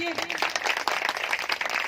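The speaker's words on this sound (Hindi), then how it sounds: "ठोको ताली यीशु के लिए।" A church congregation claps for Jesus during a sermon, a quick, dense patter of many hands under a loud voice speaking over it.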